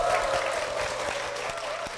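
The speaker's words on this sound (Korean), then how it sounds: "박수로 모시겠습니다." A church congregation claps warmly, a steady, even roll of hands filling the hall at moderate level with a few sharper individual claps standing out.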